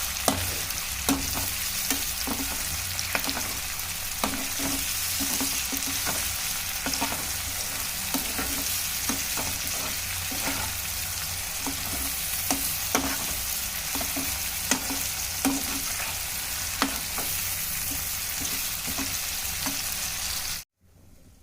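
Tomatoes cook down with salt in a pan for an onion, tomato and green chilli chutney, giving a continuous dense sizzle with regular light stirring taps throughout, cutting off abruptly at the end with no speech.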